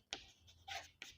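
Quick strokes of writing on a board during a maths lesson: three short, scratchy swipes, close but quiet, with no talking.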